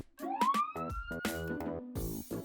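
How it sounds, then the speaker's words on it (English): A police car siren from a children's cartoon sounds alone, loud and near: a rising wail followed by rapid warbling bursts over about two and a half seconds. "Police car."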